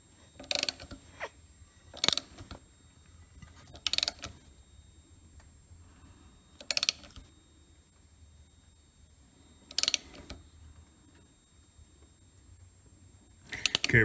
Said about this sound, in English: That was a spark plug firing.